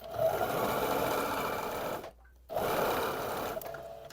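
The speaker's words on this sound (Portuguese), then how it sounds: "aqui a gente vai fazer uma costura de meio centímetro" A sewing machine running a half-centimetre seam on a blouse, a steady close whirring buzz that stops briefly for about half a second and then resumes, no voices.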